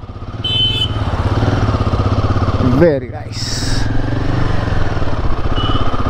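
A Royal Enfield Himalayan 450 motorcycle engine runs with a steady low throb as the bike sets off, heard close and continuous beneath someone talking throughout.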